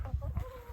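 A hen clucks in a muddy farmyard during nonstop rain, a few short low throaty clucks in quick succession, close and moderately quiet.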